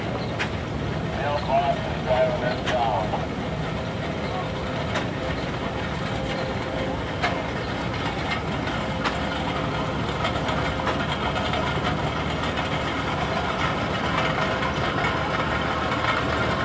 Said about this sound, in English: Here's Robert Beckler of Sac City with a 1938 Farmall F-14.